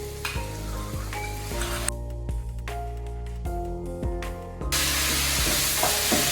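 Chow mein sizzles and hisses as sauce hits the hot pan, with tossing and stirring clatters breaking the steady frying, loud and close, with no talk.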